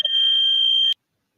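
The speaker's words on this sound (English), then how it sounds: "Oh, you hear the fire alarm." A fire alarm blares one piercing, steady electronic tone for almost a second, loud and close, then cuts off abruptly into silence.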